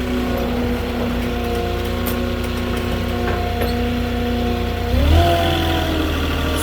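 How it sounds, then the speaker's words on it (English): Road traffic grows busier around a center lane, with a steady mid-pitched car engine hum and a brief louder rev near the end, and no one talking. "The traffic's just picking up more and more here."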